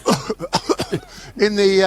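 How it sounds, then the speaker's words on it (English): A short run of forced, staged coughs, close and loud, followed by a brief voiced sound that trails into a drawn-out vocal tone. "You know the fake cough."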